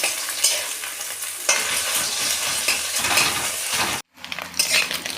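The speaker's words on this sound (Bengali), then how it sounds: "সাদা তেল দেবো দিয়ে ডিম দুটোকে ভেজে নেবো" Eggs crackle and sizzle in white oil in a wok, scrambled with scraping stirs and a brief pause before the frying resumes.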